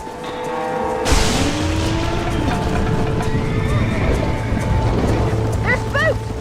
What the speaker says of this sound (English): They're spooked! We have to stop the stampede!